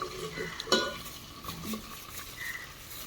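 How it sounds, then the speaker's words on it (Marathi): Bay leaf and whole spices fry in a pot over an outdoor cooking fire, a soft sizzle with a few scraping stirs and a sharp clink of a utensil against the metal. "तेजपत्ता खडा मसाला छान असं परतून फ्राय करून घ्यायचं"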